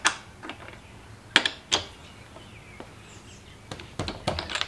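A wrench fitted with a locking key loosens a locking wheel nut during a roadside tire change, giving sharp intermittent metallic clicks and clanks at close range with quiet gaps between, and no talking.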